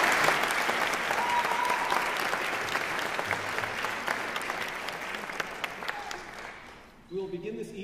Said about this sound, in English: an applause for our orchestra